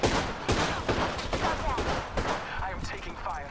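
Gunfire in Apex Legends, a loud flurry of rapid shots and impacts in a close firefight, with chirpy electronic effects scattered through.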